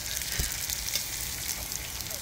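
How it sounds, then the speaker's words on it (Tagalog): Anchovies fry in hot cooking oil with a steady, dense sizzle and crackle that holds constant throughout, close by and moderately loud, with no voices. "Ilagay ang dilis ng mabilisa."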